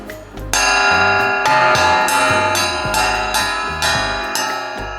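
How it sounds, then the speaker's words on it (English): A homemade steel cymbal struck repeatedly at a steady pace, a metallic, bell-like ring, each hit shimmering bright and sustained before the next strike. "it's starting to sound more like a cymbal."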